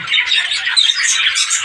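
Pet budgerigars in a breeding setup with eggs and chicks squawk and chirp in a dense, continuous chatter of bright, overlapping calls, loud and close with no voices.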